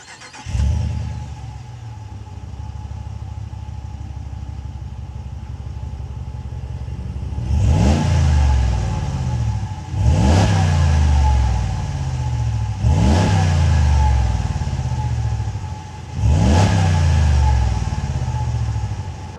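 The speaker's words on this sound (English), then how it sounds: "we can't talk about a vehicle with a V8 without at least seeing what it sounds like." A Jeep Wagoneer Series II V8 starts with a loud bark, settles into a steady idle, then gets revved five times in a row, each rise sharp and close before falling back to idle.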